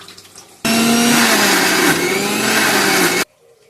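An electric mixer grinder whirs loudly for about three seconds as it grinds onion, cinnamon and cloves for a chicken curry, starting and stopping abruptly with a steady motor roar and a slight pitch wobble, close by.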